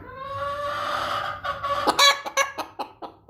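Chickens close by, a drawn-out squawking call that breaks into a run of short, sharp clucks.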